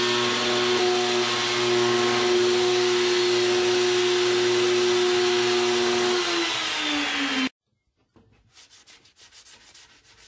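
A router cutting a round-over edge in wood: a loud, steady power-tool whine with a grinding, rasping edge runs for several seconds, then winds down and stops, followed by light scraping noises.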